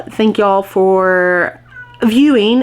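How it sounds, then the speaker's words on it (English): A cat meows loudly and repeatedly from behind a shut door, long drawn-out cries overlapping a person speaking. "If you can hear my cat meowing right now"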